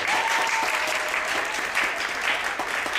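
Steady, dense audience applause at a community gathering, even and sustained throughout, with no voices over it.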